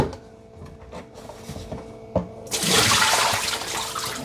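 Dirty water tank of a Eufy Omni C20 robot vacuum and mop being emptied: a few clunks and knocks, then a sudden loud rush of pouring water that keeps going to the end.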